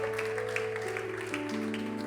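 A church congregation claps for the Lord during a Spanish-language service, a steady spatter of hands running the whole time beneath sustained organ-like music chords.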